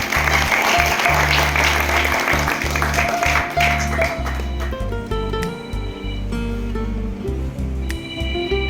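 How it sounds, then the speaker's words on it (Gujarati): Clapping from the audience at a deaf school's award ceremony as trustees light the ceremonial lamp, steady applause over a loud low instrumental tone, with the clapping fading partway through. "આપણે તાળીઓથી વધાવશું."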